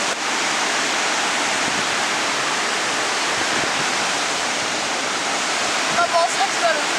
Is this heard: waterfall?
yes